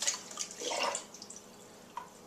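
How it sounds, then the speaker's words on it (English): Water is poured into a cooking pot over raw chicken, splashing and rushing briefly in close bursts before trailing off into a few faint drips. "Cover it with water"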